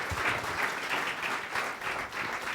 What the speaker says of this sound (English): Can we give Allie a big, huge round of applause?